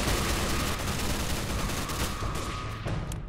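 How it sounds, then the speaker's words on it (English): Enemy gunfire in a Minecraft roleplay battle crackles as a dense, continuous fusillade of shots, loud and unbroken for several seconds with no talking over it. "Oh, I see them. They're firing."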